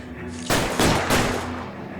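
Gunfire in the video game L.A. Noire: a few loud, broadband bursts arrive in quick succession, then trail off into a steady, reverberant roar.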